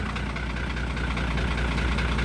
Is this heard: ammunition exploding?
no